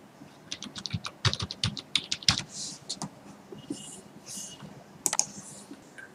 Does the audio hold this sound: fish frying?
no